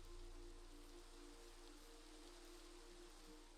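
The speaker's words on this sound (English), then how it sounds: "I love the rain in Minecraft. It's a very soothing sound to me." Minecraft rain falls as a steady, soft hiss of drops on surfaces, faint and unbroken, with a low background hum.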